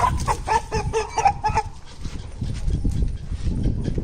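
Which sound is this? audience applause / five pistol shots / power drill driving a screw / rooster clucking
rooster clucking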